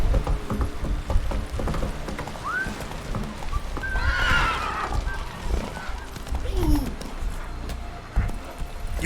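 A horse in the video game The Witcher 3 whinnies twice over a background of hoofbeats and game ambience, one loud rising neigh in the middle and a softer one later, with a voice faintly present.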